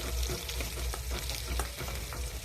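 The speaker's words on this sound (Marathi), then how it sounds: "कांदे टाकल्यानंतर त्या कांद्यांना छान असं परतून घ्यायचं आहे" Chopped onions sauté in oil with cumin and mustard seeds for Maharashtrian chunvadi, a close, constant sizzle with light scraping as they are stirred.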